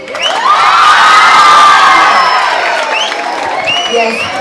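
A crowd of MES college students cheers loudly, with shrill shouts and whoops rising into a sustained roar and some clapping mixed in, close and dense throughout.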